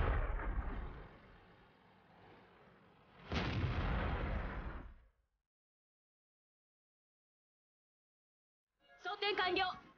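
A Centurion Mk 7/1 tank gun fires in World of Tanks: two heavy, booming shots a few seconds apart, each with a long rumbling decay, followed by silence and then brief talk.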